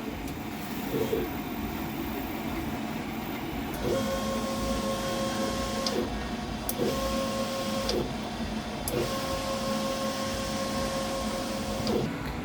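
An inkjet printer runs its head-cleaning and nozzle-check cycle, a steady mechanical whir with repeated motor tones that switch on and off in blocks, close and continuous with no talk.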